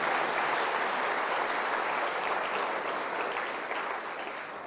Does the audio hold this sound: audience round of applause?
yes